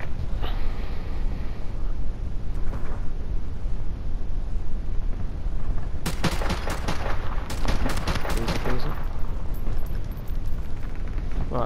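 Bursts of AK rifle fire in a multiplayer shooter game, sharp cracking volleys from about six to eleven seconds over a steady bed of game ambience, with a fainter shot or two early on.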